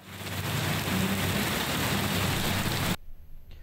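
Heavy rain pouring outdoors in Lahore during monsoon news footage, a dense, loud, steady hiss of rainfall that cuts off abruptly near the end.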